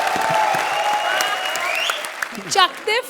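Studio audience at a Hindi comedy show bursting into applause, a broad wash of many hands clapping beneath a lively voice talking over it, with laughter-like vocal bursts near the end.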